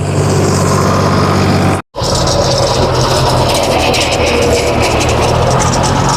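A Birbal rotavator runs in a farm field, giving a loud, continuous engine and machinery roar close by, broken by a brief cut near the two-second mark.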